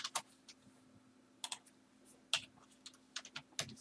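Fingers tap on a computer keyboard while an Excel spreadsheet formula is entered. The key clicks are faint and come in short sparse bursts, with pauses between them over a low steady hum.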